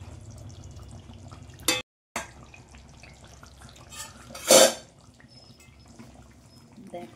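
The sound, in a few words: lid being lifted off a cooking pot of kofta curry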